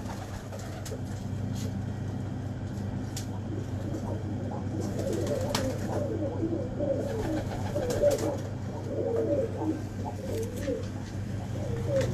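Soft pigeon coos repeat under a steady low hum, with flutters and faint background noise throughout.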